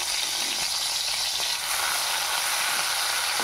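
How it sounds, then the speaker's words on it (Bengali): Dondokolosh leaf fritters frying in oil in a pan, giving a steady, close, loud sizzle that holds evenly throughout with no talk. "এবার এটা একটা পাশ ভাজা হোক, তারপরে ওটাতে ওপরটা উল্টাই দিই।"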